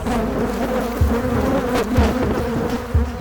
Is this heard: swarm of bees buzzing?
yes